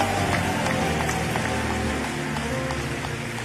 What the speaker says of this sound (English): Please give Jesus a big hand clap.